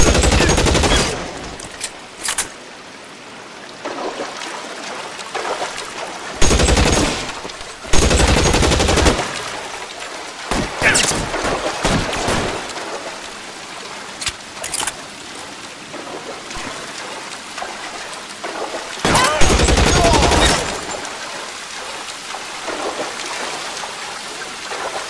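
Gunfire in a shootout in L.A. Noire: loud, separate bursts and single shots crack out at irregular intervals over a rushing, watery ambient background.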